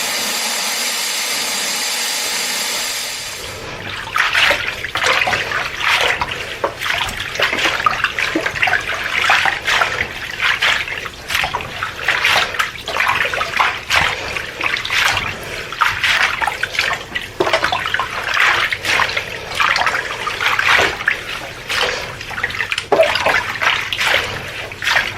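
Hot water runs steadily from a tap to soak fresh oregano for dehydrating, a continuous splashing rush that starts after a brief quiet moment and stays loud and close throughout.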